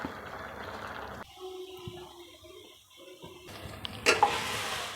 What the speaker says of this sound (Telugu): దీంట్లో కొత్తిమీర పుదీనా వేసేస్తున్నా